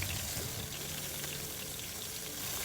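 Eggs frying in a pan give a steady, close sizzle and crackle that holds evenly throughout with no talking.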